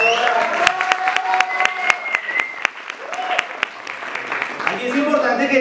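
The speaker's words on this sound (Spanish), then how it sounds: "Aquí tenemos un fuerte aplauso para los ganadores y ganadoras." Scattered, crisp claps ring out from an audience cheering contest winners at a storytelling competition, each hand clap distinct and spaced, mixed with voices and tonal sounds in the background.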